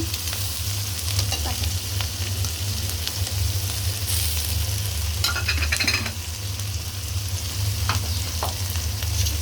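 Ginger and garlic paste frying in a hot pan with spices, a steady loud sizzle throughout with scattered crackles and the scrape of a stirring spoon.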